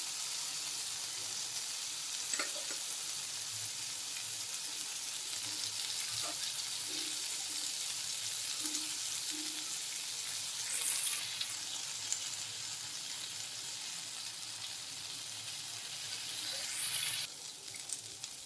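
Paneer tikka frying in butter on a hot tawa gives a soft, steady sizzle that stays fairly faint, with a few brief clinks and scrapes around it.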